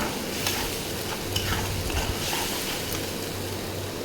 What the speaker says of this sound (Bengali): এখন এর মধ্যে অ্যাড করে দেব একটু হলুদ গুঁড়ি দিয়ে ভালো করে নেড়ে নেব।